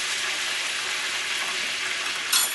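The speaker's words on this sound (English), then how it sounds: "Let these ones fry a little bit more. Let's fry this one some more." Jamaican escovitch fish sizzling in hot frying oil, a steady, close, continuous hiss and crackle that stays even throughout and swells briefly near the end, with no voices.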